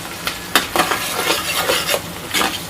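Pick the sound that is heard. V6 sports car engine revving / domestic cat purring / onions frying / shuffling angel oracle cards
onions frying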